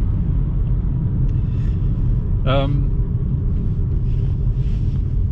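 Steady low road rumble inside a moving car, a constant dense hum with no change in level, broken briefly midway by a short voiced sound.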